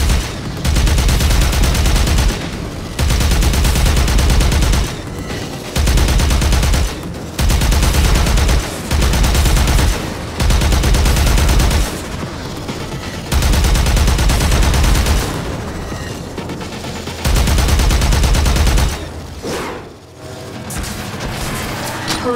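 Heavy sustained gunfire in the video game Warframe, loud bursts in long repeated volleys separated by short gaps, thumping and dense, fading out near the end.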